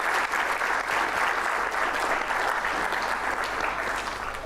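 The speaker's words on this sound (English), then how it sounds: "Let's have a great clap for" Audience applause following a lecture on exploring Mars with the Perseverance rover and SuperCam, a steady, dense clapping that holds at an even level throughout with no voices on top.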